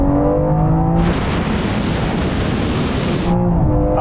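A Porsche 911 Turbo S and a BMW M3 xDrive accelerate hard in a rolling race from fifty miles an hour, heard from inside as a loud, dense, steady roar of engine and wind noise, with no talk.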